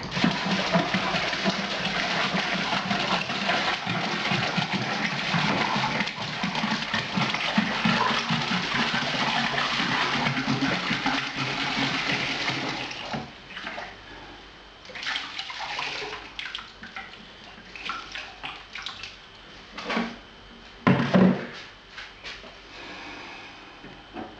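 Water gushes steadily into a lager fermenter for a Morgans Blue Mountain Lager extract kit, pouring continuously for about half the time before stopping, followed by scattered knocks and handling noises.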